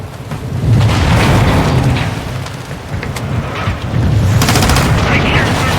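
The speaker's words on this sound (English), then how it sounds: "Let's have ourselves a gunfight!" Gunfight on an oil rig in the Modern Warfare 2 campaign, with dense continuous rifle fire and booming impacts sustained throughout, loud and close, with a brief voice underneath.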